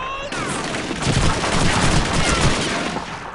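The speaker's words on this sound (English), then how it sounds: "It's an MG-42!" MG-42 machine gun fire in a Call of Duty 2 battle near Caen, a loud dense burst of rapid overlapping shots that runs continuously for several seconds at close range.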